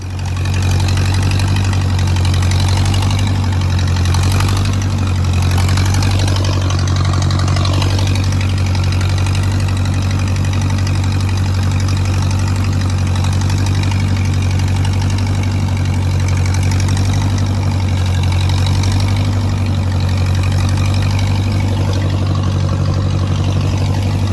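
A Ferguson tractor engine idles close by, a loud, steady low rumble with a faint knocking pulse that holds unchanged for the whole stretch, with no voices.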